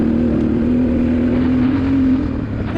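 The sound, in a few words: 1996 Honda XR600R dirt bike riding in desert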